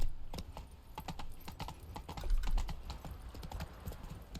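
Geralt's horse Roach galloping in The Witcher 3, a quick rhythmic clip-clop of hooves, steady and close, with no talk.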